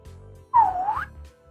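A person whistles an imitation of Mario's whistle from the video game: a single fairly loud, gliding note that dips and rises again, about half a second long, over a quiet background.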